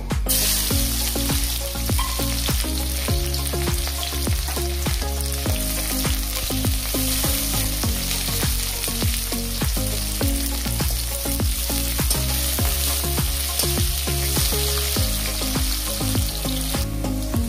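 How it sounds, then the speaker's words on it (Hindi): Chopped onions fry in oil in a kadai, giving a continuous close sizzle with regular scraping and clinking from stirring throughout, no voices present. "एबे प्याज को तेल रे दबा।"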